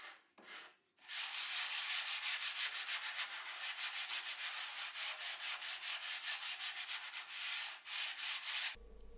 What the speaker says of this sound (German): Nachdem die Farbe getrocknet ist, schleife ich sie noch einmal ab.